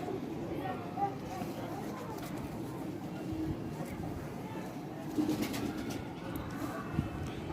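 Soft cooing of grey-feathered pigeons sits under someone talking nearby, with low rumbling background noise throughout.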